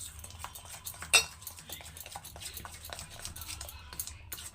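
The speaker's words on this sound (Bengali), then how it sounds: "ভালো করে এটা মিশাবো যদি লাগে দুধ তখন আরেকটু দেবো" A spoon clinks and scrapes steadily around a bowl while biscuit cake batter with milk is mixed. The sound is close and light, with one sharper knock against the rim partway through.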